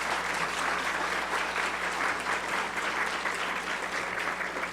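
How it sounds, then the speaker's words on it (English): A conference audience applauds steadily after a plenary talk, a dense, sustained wash of clapping heard from within the room at moderate level. "a big round of applause again for Ana Matiella."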